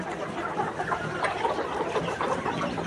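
Many ready pullet layer hens on a poultry farm clucking together in a steady, overlapping murmur, moderately close, with no talking.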